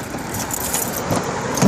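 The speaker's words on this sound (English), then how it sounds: "opening my car" Car keys jangle briefly in a hand while a car is being opened outdoors, a short metallic rattle over faint background noise.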